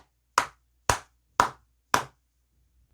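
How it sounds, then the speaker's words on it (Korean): Four sharp, evenly spaced hand claps ring out alone in a quiet room, followed by a faint fifth tap. "크게 박수 한번 치고 가도록 하겠습니다"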